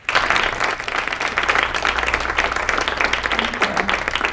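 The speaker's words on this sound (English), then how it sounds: "So a round of applause for our panelists." An audience applauds panelists at the close of a talk on reaching minorities online, a short, full burst of many hands clapping close and steady, with a faint low hum beneath.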